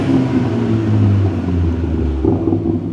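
Exhaust of a 2021 F56 Mini Cooper S running with its muffler deleted, a loud, steady low rumble that rises briefly near the end, with no talk over it.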